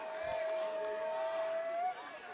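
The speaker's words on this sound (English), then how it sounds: "you can hear the roar of the crowd, an obvious local fan favorite" A crowd roars at an MMA event for a local favorite fighter, a steady loud wash of cheering under a sustained voice or horn tone, no gaps for nearly two seconds.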